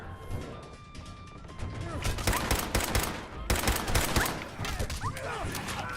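Rapid bursts of gunfire in a video game, loud overlapping shots and impacts in two clusters over a low rumble, with a voice heard at times between them.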